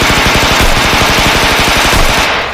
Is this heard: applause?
no